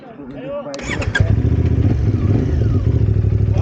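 A CF Moto 450 MT motorcycle engine starts and idles with a steady, throbbing chug on a rocky off-road single-track trail, close and loud, with people talking over it.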